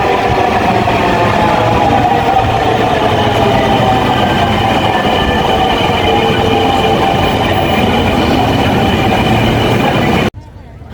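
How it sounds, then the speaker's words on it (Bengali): A Dhaka metro rail train runs loud and close, a sustained rumbling roar with a whining tonal edge lasting about ten seconds before cutting off abruptly to quiet. "আসলে মেট্রো রেল হওয়ায় আমাদের একটু সুবিধা হয়েছে যাতায়াতের জন্য"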